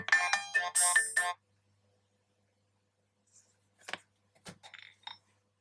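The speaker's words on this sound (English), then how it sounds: "sorry, that was the phone." A phone rings in two quick electronic trilling bursts at the start, fairly close and clear, then silence follows with a few faint clinks and small handling sounds.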